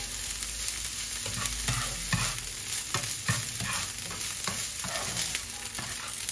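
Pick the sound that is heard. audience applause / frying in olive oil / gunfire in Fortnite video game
frying in olive oil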